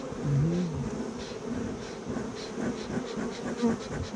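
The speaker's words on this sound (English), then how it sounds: "You see how the bees run from the smoke?" Loud, close buzzing of many bees during a bee removal, a dense droning hum that swells and wavers without pause, with no talking.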